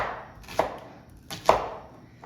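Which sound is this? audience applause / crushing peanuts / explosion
crushing peanuts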